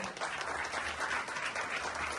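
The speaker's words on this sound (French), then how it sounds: "Alors, on peut l'applaudir, s'il vous plaît." Dense audience applause filling the whole stretch, even and continuous at moderate distance.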